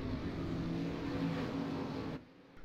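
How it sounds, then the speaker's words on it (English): Street stock rallycross cars revving their engines on the starting grid in Phoenix, a loud, steady, droning roar with a slight rise that cuts off abruptly near the end. "These guys are worried about revving their engine."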